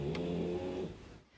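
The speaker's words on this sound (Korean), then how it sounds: "단두종 호흡기 증후군이라 기도가 좁아 숨쉬기 어려워 코 고는 소리가 장난이 아닙니다." A French bulldog with brachycephalic airway syndrome snores nearby, a steady rasping, rumbling breath sustained for about a second before fading out.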